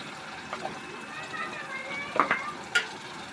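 Ginger garlic paste and cumin paste frying in a pan for a beef and potato curry, a soft steady sizzle with a few brief utensil clinks near the end.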